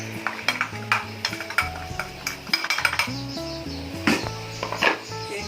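Carrot fry with coconut and coriander being stirred in a pan, giving repeated close metal clinks and scrapes of a utensil against the pan in an uneven rhythm, with no talking.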